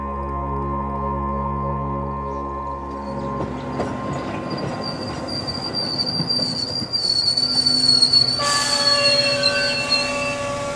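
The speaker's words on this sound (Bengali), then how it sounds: "ট্রেন এলো দেরিতে, কামরা প্রায় খালি।" A train pulls into a station and rolls along as an effect in a Bengali detective audio drama, with low rumbling giving way to rattling wheels, clickety-clack and a high metallic wheel squeal that grows louder toward the end.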